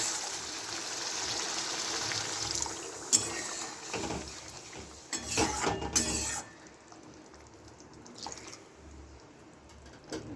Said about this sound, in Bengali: একদম অল্প করে জল দিয়ে দিচ্ছি।